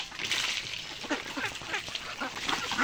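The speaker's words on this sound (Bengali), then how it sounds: "আমরা হাঁসগুলোকে আবার বেঁধে রাখছি আজকে থেকে" Farm ducks quack repeatedly at moderate distance, a scattered run of short nasal calls that overlap one another against a faint background hiss.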